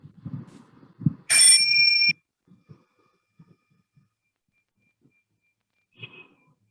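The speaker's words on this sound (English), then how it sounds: "I'm just going to ring a bell." A single bell rings clearly to open a moment of silent reflection, a bright sustained tone lasting under a second and then cut off, with soft breathing and faint rustling before it and a small chime-like tap later.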